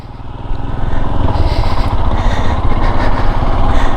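A Royal Enfield Himalayan 411 motorcycle engine idles close by, a loud, steady single-cylinder thump that starts after a brief quiet moment and runs evenly.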